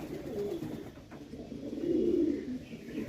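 Andhra breed pigeons coo softly nearby at a sale, a low, rolling warble that rises and falls over steady background hum.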